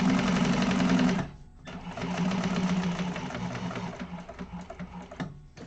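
Sewing machine top stitching bag fabric, a fast steady mechanical whir of needle strokes that pauses briefly after a second, then resumes and runs in short bursts, fairly close and alone.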